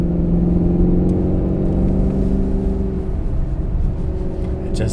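A 2015 Maserati Gran Turismo S engine revs hard and steadily to about 4,000 RPM, a loud mid-pitched roar with rising harmonics that holds for several seconds, close by.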